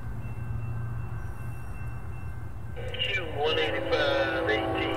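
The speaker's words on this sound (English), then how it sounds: "here comes the next southbound train, Q185" Southbound intermodal freight train Q185 out of East Thomas, led by a pair of orange locomotives, rolls by with a steady low rumble; partway through, layered tonal wailing and squealing notes build louder over it.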